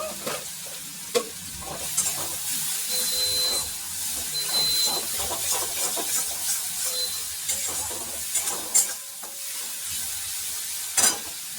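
Spice masala with turmeric, egg and potato frying in a pan for egg curry, a loud continuous sizzle and hiss broken by repeated scraping stirs and occasional clanks of the spoon.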